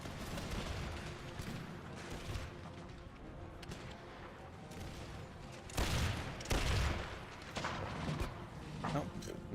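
Soldiers in the strategy game Empire II fire muskets, dense rolling volleys of gunfire crackling continuously with heavier bursts of booms midway and near the end, loud and close.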